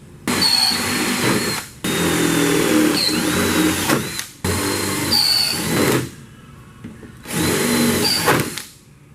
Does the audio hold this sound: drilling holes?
yes